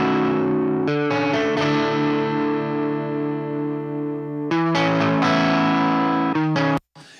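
Soloed electric guitar track from a mix, heavily distorted and effected, plays sustained chords that ring out loudly. The chords change about every few seconds, then cut off abruptly near the end.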